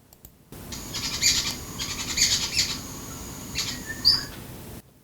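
A racket-tailed drongo in India mimicking the calls of jungle babblers: a run of clear, high chirping and whistled notes in short bursts over about four seconds, fairly close, with no speech.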